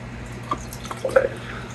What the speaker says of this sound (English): Get this poured out into my stout glass here.